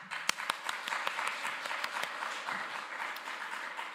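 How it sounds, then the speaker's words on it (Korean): A church congregation applauds during a worship service with steady, dense clapping that carries on throughout, moderately loud and even. "다시 한 번 더 하나님께 영광의 박수 올려드립니다."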